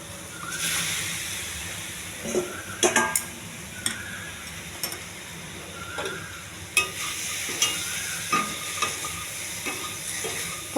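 Steamed okra frying with a spiced tempering powder gives a soft, steady sizzle, broken by sharp clicks and scrapes of a spoon against the pan at irregular intervals, close by and with no talking.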